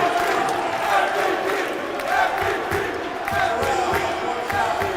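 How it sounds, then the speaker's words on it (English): Basketball crowd chanting MVP at a college game between Yeshiva and Saint Joseph (CT), a steady, loud roar of many voices filling the arena with rhythmic swells throughout. "MVP chants ring out from the crowd here"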